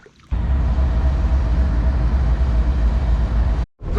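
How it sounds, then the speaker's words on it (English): A train rumbles across a bridge directly overhead above a fishing spot by murky water, a loud, heavy, continuous roar that starts suddenly and cuts off near the end. "It's always a first, fishing underneath a train."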